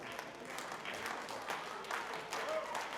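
Crowd at a professional wrestling title match applauding and cheering steadily throughout, a dense wash of clapping with a commentator's voice talking over it.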